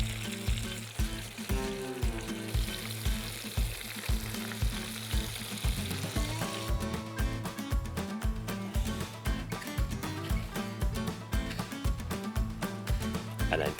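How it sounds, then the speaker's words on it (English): A Scotch egg coated in beer batter and panko fries in hot oil, giving a steady, close, bubbling sizzle that runs the whole time, with a person talking over it. "And then dip it into the oil to fry."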